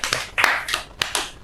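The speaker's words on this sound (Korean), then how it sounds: "박수 한번 쳐주십시오." Brief scattered handclaps from a small audience at a Korean talk show, a few sharp claps standing out over a thin, sparse patter, lasting only a moment.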